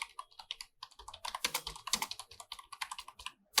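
Close, crisp typing on a computer keyboard while entering JavaScript code, irregular bursts of quick key clicks with short pauses, no talking.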